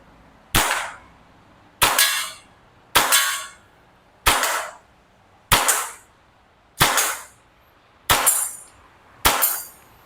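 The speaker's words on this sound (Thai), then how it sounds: "ทดสอบยิงนะครับผม" A WE Hi-Capa 5.1K custom airsoft BB pistol fires eight sharp, loud cracks at steady intervals of just over a second, each shot decaying quickly, during test firing at targets about 15 metres away.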